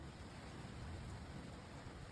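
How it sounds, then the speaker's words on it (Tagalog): Heavy rain pouring steadily in a rural setting, a dense continuous hiss and patter with low rumbling, faint and unbroken. "napakalakas ng ulan mga kaprobinsyano"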